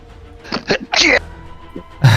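A single sneeze bursts out at close range among a tabletop role-playing group, followed by a brief noise and voices in the background.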